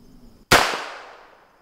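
A single sharp report from an unsuppressed .22 pistol, loud and close, with a long ringing decay trailing off afterward; no talking.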